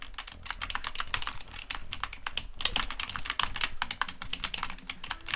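Rapid keyboard button mashing while playing the video game Iron Snout, a dense, fast stream of sharp clicks and taps, close and loud with no pauses.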